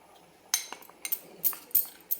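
Irregular clinks and scrapes of a spoon stirring roasted jowar flour into mutton and pumpkin curry in a pan, a handful of sharp metallic taps spread over two seconds, close and fairly quiet.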